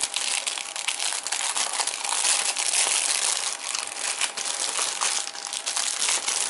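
Anker Astro 2 external battery packaging being unboxed, giving continuous close, loud crinkling and crumpling of plastic and paper wrap with no talk.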